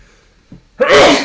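A single loud, close sneeze bursts out after a brief quiet intake of breath, filling the clip with a sharp, breathy blast.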